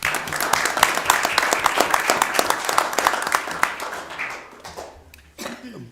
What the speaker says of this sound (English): Another big round of applause for our Lewiston leaders.